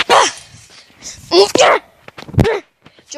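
Two pet dogs scuffle in play-fighting, letting out sharp yelps, growls and short barks in quick bursts close to the microphone, with pauses between outbursts.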